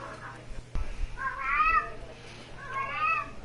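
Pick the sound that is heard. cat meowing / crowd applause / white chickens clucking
cat meowing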